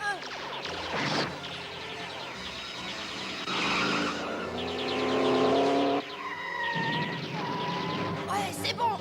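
Cartoon robot car racing in a chase: a revving engine with squealing tire skids, loud and close, with brief bursts of effects and a short pause partway, under and between voices talking.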